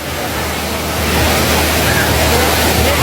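The Wang Kan Lueang waterfall in Lopburi roars as a loud, continuous broadband wash of falling water, with a faint murmur of people mixed beneath it.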